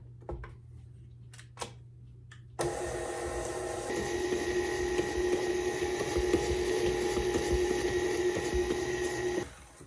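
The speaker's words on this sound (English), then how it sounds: "I'm going to add the eggs and 2 teaspoons of vanilla. All right, let's mix this up." Electric mixer beating cake batter with eggs and vanilla, a steady loud motor whir that starts abruptly after a few faint knocks and runs continuously until it cuts off near the end.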